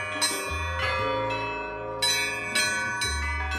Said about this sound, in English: The bell is a special Russian symbol. Its ringing notifies people of important events.